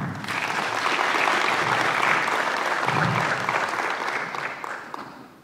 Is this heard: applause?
yes